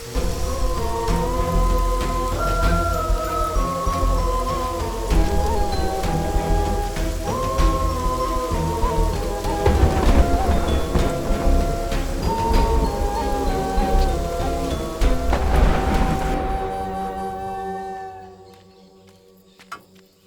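Heavy rain from a storm pours down steadily over a field, its dense hiss running throughout beneath swelling music, with low rumbling that fits distant thunder, before the sound fades out at the end.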